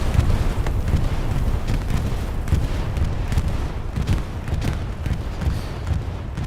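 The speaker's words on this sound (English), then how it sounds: "Bombing run goes through." Bombing-run explosions in Glow's Battlegrounds form a dense, continuous rumble of deep booms and thuds that rolls on steadily at high loudness for the whole stretch, with no clear pauses between blasts.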